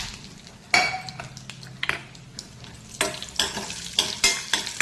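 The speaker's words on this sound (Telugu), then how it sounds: "నేను ఒక 7-8 బాదం పప్పులు, ఒక 6 జీడిపప్పులు తీసుకున్నాను. ఇవి వేయించుకుంటున్నాను." Almonds and cashews frying in a pan, with a soft sizzle under repeated scraping and clinking stirs of a spoon against the metal, each stroke sharp and close.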